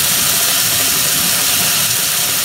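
Ground spice masala sizzles and fries in a pan while cooking a poi (Malabar spinach) vegetable dish, a steady close hiss filling the whole stretch with no pauses or talk.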